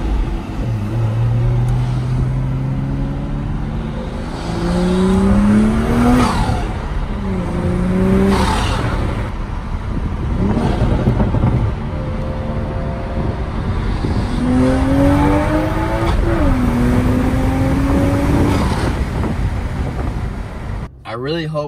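A 2023 manual Toyota Supra engine revs up through several gears, pitch climbing then dropping at each shift, loud and close, with wind noise throughout.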